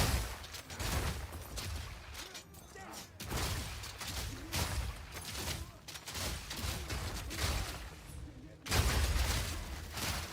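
English longbowmen in the Path of Exile 2 video game loose volleys in a dense, continuous barrage of rapid whooshing and impact bursts, with game effects layered throughout.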